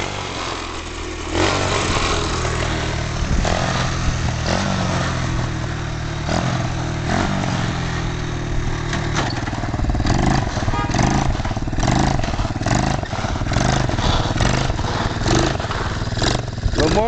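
A mini bike engine revs repeatedly at night ahead of a drag race, a loud buzzy mid-pitched motor rising and falling in bursts close by, with people talking over it throughout.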